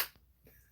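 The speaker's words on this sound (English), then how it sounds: "I clapped." A single sharp hand clap, close and brief, with a fast decay, followed by near-silence in a quiet indoor room.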